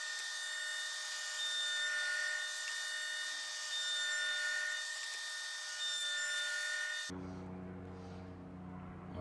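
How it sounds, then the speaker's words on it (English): A planer whines steadily and loudly with a high tonal hum as it smooths an epoxy wood sign, running for about seven seconds before switching to a lower mechanical drone. "next steps, get this planed off"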